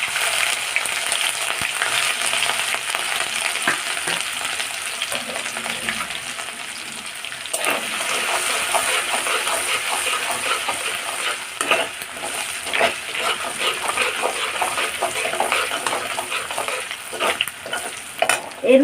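Spice tempering with chopped ginger and green chili fries in hot oil for a vegetarian paneer masala, a continuous close sizzle broken by stirring scrapes and spatula knocks against the pan.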